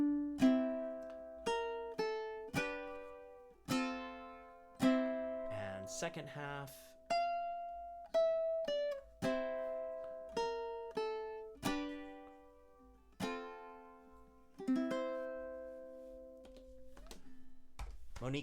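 Ukulele picking out the melody of a song, single plucked notes and short strums in a steady rhythm, close and fairly quiet, with a brief spoken phrase partway through.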